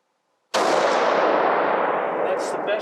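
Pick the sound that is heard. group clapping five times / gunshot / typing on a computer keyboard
gunshot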